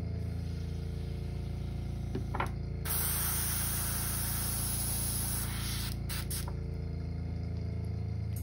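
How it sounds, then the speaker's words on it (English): A Master G266 airbrush with a new filter fitted sprays in a steady, close hiss while being cleaned out, with a louder sustained burst in the middle and brief shorter bursts on either side. "Clean this out of my airbrush real quick."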